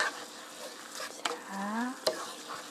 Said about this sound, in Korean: 이렇게 섞으면서 스파게티 국물을 한 큰술 넣어주세요.